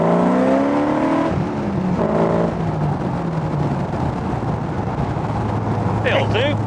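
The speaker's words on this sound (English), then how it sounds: "from the tone of the engine you can definitely tell that the idle is much," A Rover V8 in a Westfield kit car runs at a steady, throaty idle after an ignition and carburettor upgrade, a continuous low rumble with a few brief revs; someone talks over it at the start.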